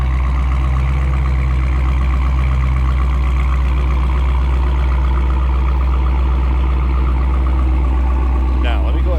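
Deep, loud, steady idle rumble from the exhaust of a 2018 Dodge Challenger Hellcat Widebody, heard up close with a throbbing low drone and no sharp revs.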